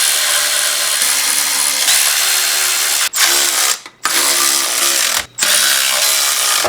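Power tool tightening clutch bolts during a transmission install on a turbocharged Nissan Hardbody pickup, running loud and steady in long whirring bursts broken by two brief pauses, alone with no talking.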